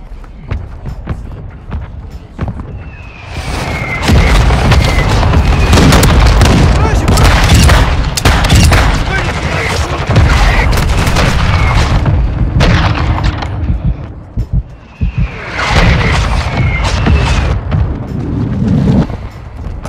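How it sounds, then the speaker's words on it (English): Mortar rounds pound the ground in Call of Duty Modern Warfare 2, a heavy string of loud, booming blasts rolling together with gunfire crackle, a short lull, then another volley of impacts and whistles. "Friendly mortar strike on the way."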